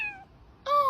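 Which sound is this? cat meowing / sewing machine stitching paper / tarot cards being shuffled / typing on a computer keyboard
cat meowing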